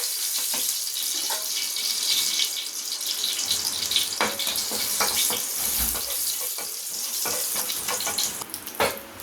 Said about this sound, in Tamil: நல்லா கடுகு பொரியட்டும்